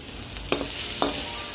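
Masala and onion stir-fry in a pan with a steady close sizzle, broken by two sharp scrapes of a spoon stirring, and no talking.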